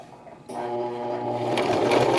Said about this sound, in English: here I'm coming to the end of my seam, so I need to make sure to lock in the stitch